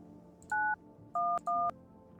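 Three loud DTMF keypad dialing tones from a telephone in the horror game No I'm Not A Human, spaced at an uneven rhythm over a low hum, each a clean two-pitch beep.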